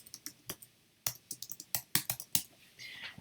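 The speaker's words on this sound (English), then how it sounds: "I'm going to hit enter or return, and then I'm going to type in impact design." Computer keyboard typing in a short, uneven burst of sharp key clicks, with a brief pause and a louder return-key strike partway through, close and clear with no talking.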